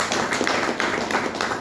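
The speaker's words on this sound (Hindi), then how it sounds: "अपने अपने लिए एक बार ताली बजा लीजिए।" An audience at a wellness seminar applauds itself, with a steady patter of many hands clapping at moderate distance, even and unbroken throughout.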